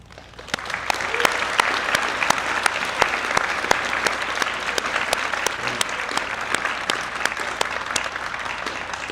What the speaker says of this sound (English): And we could all give them a round of applause.